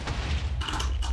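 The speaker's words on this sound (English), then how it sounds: "I heard some explosion." Short bursts of booming explosions in Minecraft PvP, a loud blast followed by a second rumbling burst about half a second later, dense and crackling, with no talk over them.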